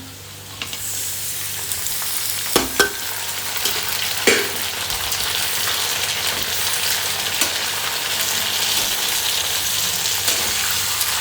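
Onions and tomatoes fry in a pan over medium heat, a steady broadband sizzle running throughout with a few sharp clinks and stirring knocks near the start.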